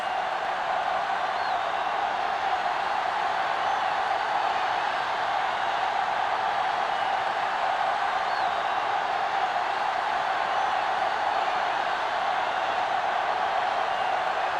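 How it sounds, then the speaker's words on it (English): Stadium crowd roaring at a football kickoff, a steady loud wash of cheering and noise that holds evenly for the whole stretch, with no single voice standing out. "the crowd in full throat as we get this new season started with the kickoff"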